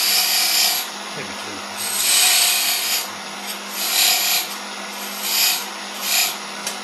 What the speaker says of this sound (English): I think I'll put one more little decorative cut right here.